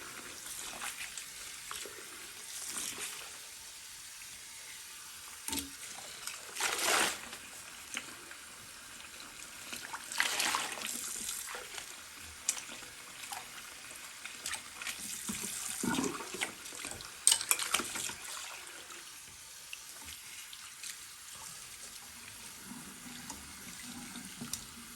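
Tap water runs steadily into a sink while a curly wig is rinsed, a soft continuous splashing with changes in loudness as the hair moves under the stream.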